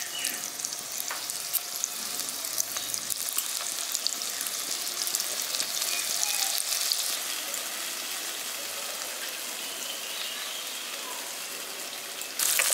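Marinated paneer frying in ghee in a kadai, a steady close sizzle with crackling spatter and occasional stirring scrapes, continuous throughout with no talk.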